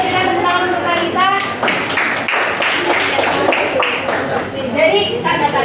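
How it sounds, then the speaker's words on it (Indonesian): Students in a classroom clap for a classmate in a short, uneven burst of applause that blends with children's voices and chatter throughout. "Berikan tepuk tangan untuk Talita."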